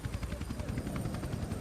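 Helicopter in Tony Hawk's Underground 2 at a New Orleans building, a steady close rotor thump with rapid rhythmic chopping and a dense engine drone that stays loud throughout, with no voices over it.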